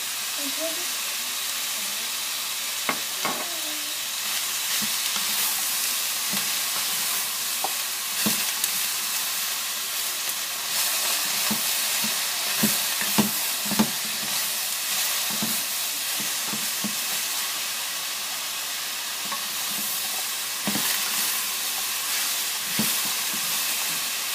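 Vegetables stir-frying in a pan with a little sesame oil, a constant bright hissing sizzle with scattered clicks and scrapes of stirring, while a voice briefly talks over the cooking.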